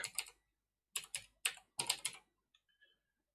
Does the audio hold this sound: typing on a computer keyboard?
yes